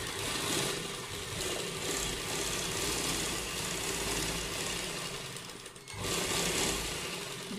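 Sewing machine stitching the neckline of a kurta along the buckram edge, a steady close whirring run that pauses briefly near the end before resuming, with no talking.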